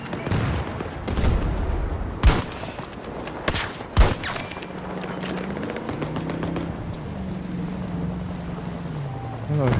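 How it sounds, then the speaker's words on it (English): Battlefield 2042 gunfire: bursts of rifle shots and a couple of sharp loud cracks in the first half, then a droning vehicle engine with wind noise, under a busy battlefield mix. "I don't know who's shooting at me."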